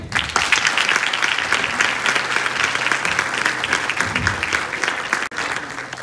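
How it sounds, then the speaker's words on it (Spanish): Sustained audience applause at a nursing capping ceremony in Arecibo, a full, even clatter of many hands heard close and loud, briefly dipping near the end. "Un aplauso."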